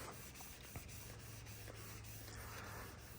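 A rag rubs lacquer thinner onto a raw plastic bumper, giving a steady, close, dry scuffing hiss with faint strokes and no talking.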